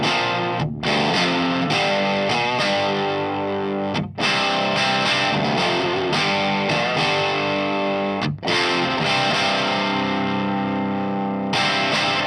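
Heavily driven electric guitar through a 1974 Hiwatt amplifier with its volumes maxed and the master volume reining it in, playing loud, continuous distorted chords with brief gaps between phrases, no voices present.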